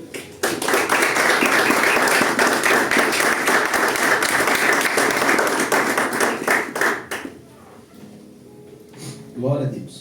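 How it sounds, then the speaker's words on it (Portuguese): A church congregation applauds loudly in a sustained burst of many hands clapping that fades out after several seconds, followed by a voice speaking. "aplauda Jesus"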